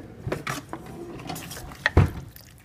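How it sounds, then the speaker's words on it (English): A spoon stirs food in a crock pot, making a few soft scrapes followed by a louder clunk of utensil against the pot near the end, close by and without speech. "So then I'm just going to give it a stir."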